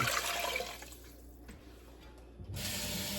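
Water rushes and splashes steadily into a pot, pauses briefly with a quieter trickle, then pours again, close by with no talking.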